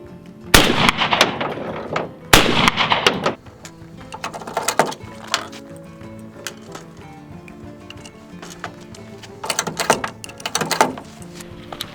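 Shotgun firing Winchester Super X steel shells: loud, sharp reports, two close together early and another pair later, each followed by lighter mechanical clicks and handling noises between shots.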